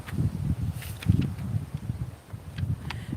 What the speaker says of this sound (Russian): Как по заказу начался для вас ветер.